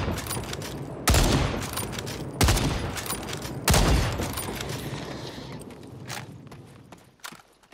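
Bursts of rapid gunfire shooting at creatures in the video game Second Extinction, with three loud volleys a second or so apart and sporadic shots trailing off beneath ambient game noise.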